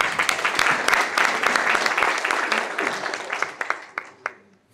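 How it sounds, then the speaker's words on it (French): An audience at a May Day workers' celebration in Lima applauds loudly and continuously, the clapping thinning out into a few scattered claps at the end. "Applaudissez pour lui, s'il vous plaît."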